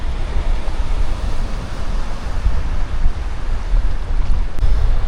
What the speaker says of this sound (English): as you may be able to hear in the audio, it's quite windy now. The wind is kicking up.